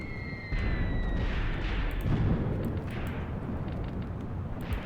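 Artillery shells burst in a WWII Eastern Front video game battle, a dense rolling rumble of booms and blasts that swells after a moment and keeps thundering, with a fading high whistle early on and no talk.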